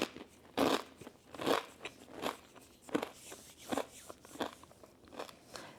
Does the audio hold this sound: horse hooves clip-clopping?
no